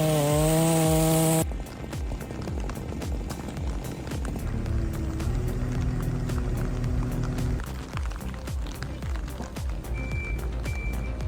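A large chainsaw roars steadily as it cuts into an ancient tree, loud and close for about ten seconds after a brief tonal lead-in, with faint beeping in the background.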